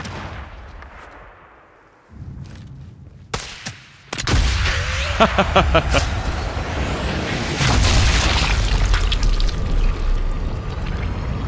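A grenade blast in the video game Sniper Elite 5, a sudden loud boom after quiet moments, followed by a long rumbling roar with rattling debris and crackling.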